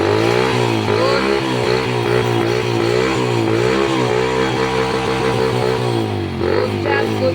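A motorcycle engine that had failed to start runs loud and close after finally firing up, its throttle rising and falling in steady revs with a clattery mechanical edge throughout.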